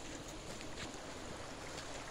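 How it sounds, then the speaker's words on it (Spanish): Steady broadband rush of a river flowing below a mountain waterfall at San Pedro de Colalao, heard continuously and fairly close, with no voices. "Allá abajo está el río."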